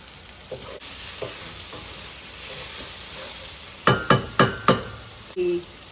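Garlic sizzling in olive oil for a Creole seafood gumbo, a soft steady sizzle close by, then four quick rhythmic scraping stirs and a final short scrape.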